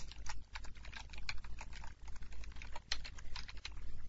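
Steady clatter of computer keyboard keys as code is typed, close and moderately quiet, with irregular bursts and brief pauses and no voices.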